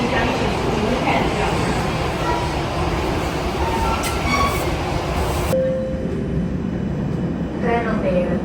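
A Milan metro train rumbles and clatters at a station platform, loud and continuous, with a brief squeal of wheels and then a quieter, cut-off stretch near the end.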